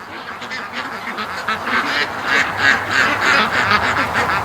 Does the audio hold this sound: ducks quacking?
yes